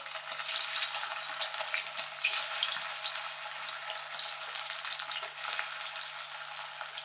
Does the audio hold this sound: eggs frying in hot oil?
yes